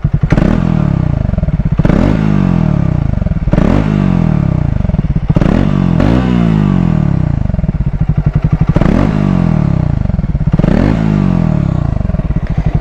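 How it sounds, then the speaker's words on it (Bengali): A Triumph Speed T4 motorcycle exhaust sounds up close and loud, with a steady engine drone broken by about seven sharp throttle blips that rise and fall at regular intervals, heard alone with no talk. "আর এবারে আমি এক্সস্ট নোটটা তোমাদেরকে শুনিয়ে দিচ্ছি।"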